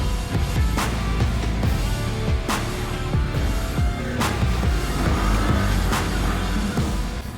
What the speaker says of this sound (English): Shift into low gear and go